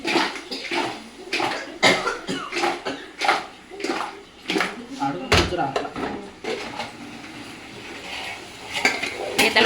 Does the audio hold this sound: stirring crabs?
yes